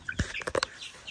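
A few short, high peeps from small chicks in quick succession, close by, with faint bird chirps around them.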